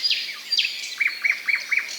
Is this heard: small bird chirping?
yes